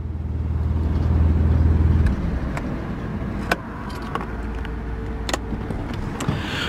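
1989 Middlebridge Scimitar GTE engine idling with a low, steady drone that cuts off about two seconds in, followed by faint ticks, clicks and small cabin knocks in a quiet interior.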